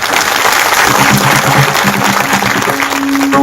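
An audience claps together at a Marathi kirtan on the Nath tradition, a dense, steady roar of applause filling the room throughout, with a brief sustained tone rising near the end.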